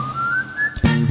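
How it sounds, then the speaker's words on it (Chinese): A person whistles a tune from a popular song on a Taiwanese karaoke show: one clear, sustained note gliding slowly upward, close and fairly loud, then broken off by a short burst of louder noise and voices. "我爱吹口哨"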